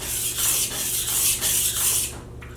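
A knife's belly is drawn across a sharpening stone in steady back-and-forth strokes, producing a loud rhythmic gritty scraping about every half second, with no talking.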